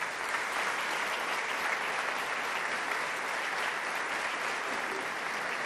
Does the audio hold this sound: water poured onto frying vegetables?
no